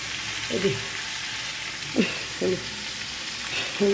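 Vegetables sizzle in a pan for a shrimp and pointed gourd dish, a continuous moderate hiss with a few short, faint voice-like sounds breaking in over it.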